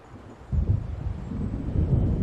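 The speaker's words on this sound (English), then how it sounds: "It seems there's a storm coming." Thunder from an approaching storm in the video game Alan Wake: a low, continuous rumble that swells in after a quiet start and rolls on steadily, with no talk.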